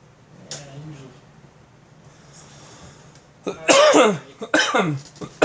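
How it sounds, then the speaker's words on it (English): A person coughs close by, a few harsh rasping bursts following a quieter stretch with faint background noise. "Excuse me, much coughing."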